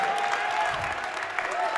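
A home crowd at a junior varsity boys basketball game cheers and applauds steadily in a gym, a broad wash of clapping and voices kept at moderate distance with a whistle-like tone running beneath.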